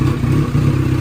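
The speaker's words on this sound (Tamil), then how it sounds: "இப்போ நீங்கள் எக்ஸாஸ்ட் நோட் கேளுங்க எப்படி இருக்குன்னு சொல்லி" TTF motorcycle with a full-system exhaust, a steady loud low rumbling exhaust note, close and continuous with no talk.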